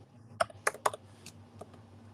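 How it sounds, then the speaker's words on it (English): A handful of separate key presses on a computer keyboard, three sharp clicks close together followed by a few softer taps in a quiet room, with no talking. "Don't think, just type."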